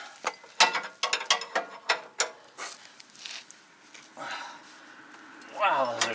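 Sharp repeated ratchet clicks in quick bursts as tight bolts on a truck's lower A-arm are worked loose, heard close, with a grunting voice near the end.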